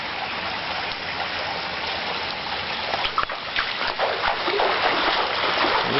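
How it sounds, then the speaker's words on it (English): Floodwater from the 2011 Lockyer Valley floods at Postman's Ridge Road pours against sandbags at the front of a house, a continuous rushing splash that swells slightly toward the end, close and fairly loud. "Hitting the sandbags at the front of the house."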